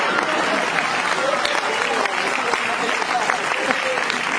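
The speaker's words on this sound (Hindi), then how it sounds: "देखो आप लोगों ने गलत जगह ताली बजा दी" An audience claps together at a live storytelling talk, sustained, dense applause at close range with a voice speaking over part of it.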